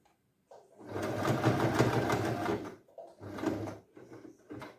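Sewing machine stitching the pleats of a silk skirt in short stop-start runs, a close mechanical whir broken by brief pauses and light clicks.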